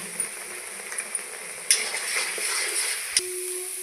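Jackfruit and spice paste with turmeric, chili and cumin powder frying in a pan, a steady soft sizzle with occasional clinks and scrapes of a spoon against the pan.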